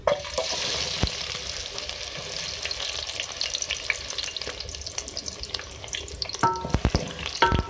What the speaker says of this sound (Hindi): ऑयल में मैंने प्याज डालूंगी अब।